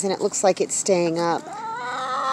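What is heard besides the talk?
chickens clucking in the yard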